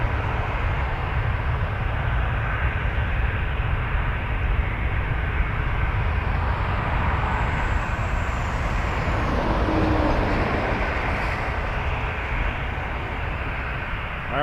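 Heavy jet aircraft at Toronto Pearson Airport, a loud continuous broadband engine roar that holds steady throughout with a slight swell partway, no voices present.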